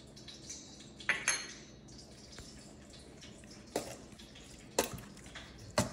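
Chicken being tossed with flour, salt, pepper and paprika in a skillet gives a few clinking taps and scraping knocks of utensil on pan over a quiet background, with soft rustling between the louder hits.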